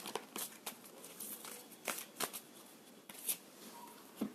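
A tarot deck handled to draw a single card, with soft, close riffling and sliding card sounds in quick irregular bursts.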